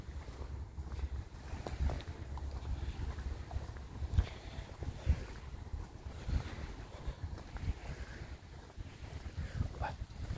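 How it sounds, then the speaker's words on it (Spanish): Ocean waves at Los Alcázares wash and rumble continuously, mixed with gusty wind buffeting the microphone, a steady outdoor roar without clear voices. "Ya habéis oído el ruido de las olas."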